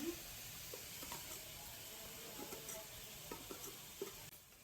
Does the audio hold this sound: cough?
no